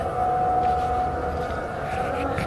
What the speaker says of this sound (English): It sounds like an Islamic air raid siren.